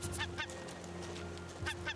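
A goose-like bird in a video game honks in quick double calls near the start and again near the end, over a steady humming game background with no voices.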